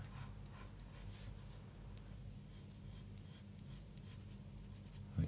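Pen drawing freehand lines of a Celtic knot on paper: soft, close scratching strokes in a steady series, quiet and dry, ending with a brief louder knock, with no talking.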